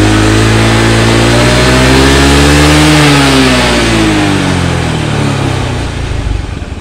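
Honda Beat carburetor scooter engine revved hard and close, a loud continuous drone whose pitch climbs, peaks and falls back, then settles toward idle near the end.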